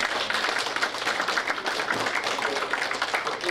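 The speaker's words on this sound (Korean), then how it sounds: "양동격 작가님께 큰 박수로" Audience at a 2021 tea culture academic conference gives a presenter sustained applause, dense clapping from many hands filling the room steadily for several seconds.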